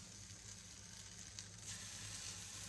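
Sea bass loins searing in a pan on high heat, giving a steady soft sizzle and crackle of frying, faint and close, with no talking.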